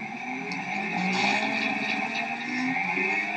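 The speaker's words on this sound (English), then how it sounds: "I'm going to have the motor turned on now so you can see how it rotates." A DC brushless traction motor from a hybrid electric car conversion kit runs in static operation, giving a steady, continuous whine with layered tonal hum, fairly close and even in loudness, with no talk.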